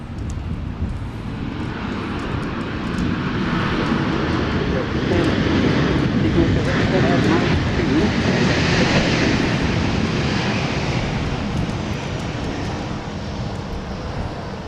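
A fixed-wing airliner lands at Dallas Love Field in the rain, its engine roar steady and loud throughout and swelling slightly mid-way, with rain hiss underneath.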